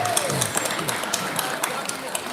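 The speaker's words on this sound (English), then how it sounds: "Can we give them a round of applause?" Audience applause at a Kankakee High School board meeting, a steady wash of clapping from the room with a voice talking faintly over it.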